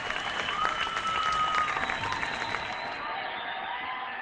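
Enthusiastic audience applause fills the room with dense clapping and a few whoops, loud at first and then thinning out.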